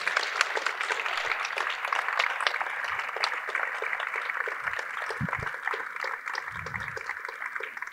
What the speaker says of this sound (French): Je pense qu'on peut les applaudir encore.